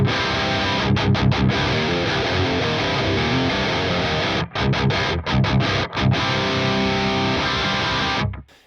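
Loud, saturated Mesa Mark-style electric guitar on an Axe-Fx III with the output EQ bass raised, giving a thick low end. Chugging riffs run with brief palm-muted gaps and end in a trailing fade, with no voices.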